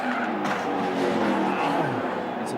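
Australian V8 Supercar tyres squeal in a sustained skid, a steady engine roar under a continuous broadband screech that holds for a couple of seconds, close and loud; no distinct impact with the wall stands out.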